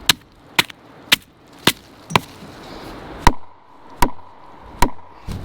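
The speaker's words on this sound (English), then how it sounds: "So let's whack it with the axe and see what it sounds like." An axe strikes the trunk of a dead pine tree in eight sharp, evenly spaced blows about half a second apart, each a loud close crack over quiet outdoor background.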